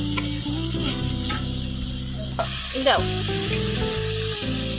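Spice paste for a restaurant-style prawn malai curry sizzles steadily in a pan, with scraping stir strokes throughout and one brief spoken word over the frying.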